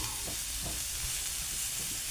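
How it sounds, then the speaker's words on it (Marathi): A steady loud sizzle fills a frying pan as tomatoes cook for a chickpea curry, with a few soft stirring scrapes under the constant hiss. "आता याच्यातच मी टोमॅटो घालणार आहे."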